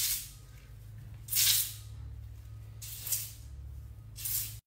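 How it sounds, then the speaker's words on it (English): Hair mousse sprays from an aerosol can in three separate short bursts of hissing, each about half a second long and close up, over a low steady hum. "just spray the mousse."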